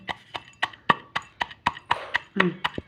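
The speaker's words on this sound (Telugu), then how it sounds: "కారం వేసుకోవాలండి, కొద్దిగా ఉప్పు వేసుకోవాలండి. దీన్ని మెత్తగా దంచుకోవాలండి." Steady rhythmic thuds of chilli and salt being pounded into a lentil chutney, about a dozen evenly spaced close knocks with someone talking over them.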